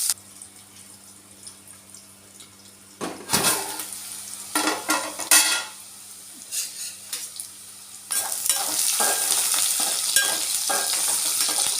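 Onions and green chilies frying in a pan while being stirred, with intermittent bursts of loud sizzling and metallic scraping over a low background hum, growing into a sustained sizzle near the end, close up with no speech.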